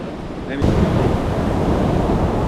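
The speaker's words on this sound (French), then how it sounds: "Bon moi je vais aller vous montrer les vagues" Ocean waves breaking on a beach at Nusa Penida, a loud, steady wash of surf with wind buffeting the microphone, starting abruptly after a brief quieter moment.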